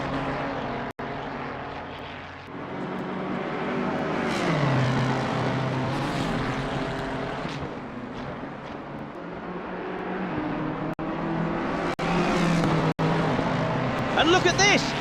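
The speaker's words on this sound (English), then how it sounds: "Anderson and Z06 are now neck and neck, a drag race towards the Parabolica." Race cars in Assetto Corsa Competizione, including a Corvette Z06, accelerate down the Monza straight toward the Parabolica, engines rising and falling in pitch as they pull alongside one another, with a few sharp clicks at moments.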